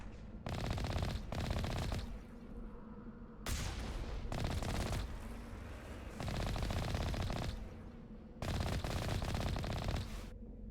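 Automatic gunfire in Mass Effect Legendary Edition, loud rapid-fire bursts of a few seconds each, separated by short pauses, up close and not under any talk.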